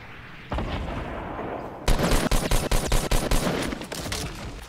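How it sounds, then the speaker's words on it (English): Rapid burst of loud explosive shots and blasts from missiles being fired in the Fortnite video game, near a lake, starting after a quieter lead-in and repeating in a tight volley. "They're shooting missiles."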